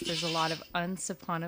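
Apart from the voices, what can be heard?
phone ringtone of a bleating goat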